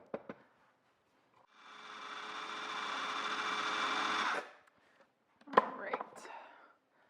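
A food processor whirs steadily for about three seconds while blending butter bean hummus, then stops; a few clunks and rattles follow, and brief talk is heard at the start.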